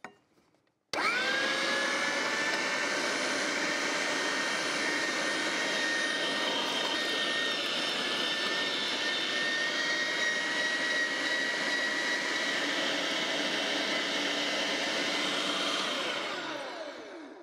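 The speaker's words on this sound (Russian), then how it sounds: "Включаю мясорубку и буду сейчас все через нее быстро-быстро пропускать" An electric meat grinder mincing tomatoes, celery, onion and chili pepper switches on with a jolt and then runs as a steady, loud motor whine with a grinding hum for about sixteen seconds before winding down, no speech.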